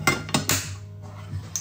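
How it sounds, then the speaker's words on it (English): Metal pots with detachable handles clinking and clicking in a home kitchen during baking, several sharp close metallic clacks in quick succession, then quieter rattles and a final click. "Oh, Chad, I'm really excited about the clicking of the pots"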